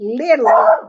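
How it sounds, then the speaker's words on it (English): A pet dog yelps and whines indoors at close range, its short high cries running under and through a person's continuous talking. "I'm sorry about my dog. I am sorry about the dog"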